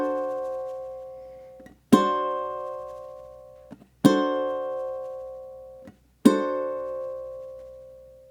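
Ukulele sounding four plucked half notes about two seconds apart, each sustaining with a loud, expressive vibrato that makes the pitch waver noticeably as the tone fades; solo instrument, no voices.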